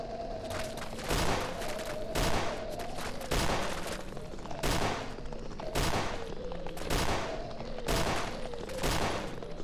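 Bursts of rapid gunfire in the video game Fallout 4, loud clustered volleys of shots repeating roughly every second over a background hum, with no talk heard.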